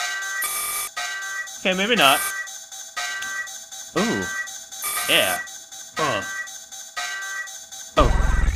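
An alarm in the video game RAGE sounds as a warbling, siren-like tone in repeated rising sweeps with beeping bursts, while a player speaks briefly over it.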